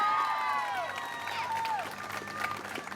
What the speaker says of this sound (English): I think that got the loudest applause.